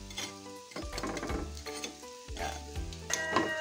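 Spinach fries and sizzles in a pan for crispy spinach, a busy crackling hiss with stirring scrapes and clinks throughout, close and moderately loud, with one short spoken word.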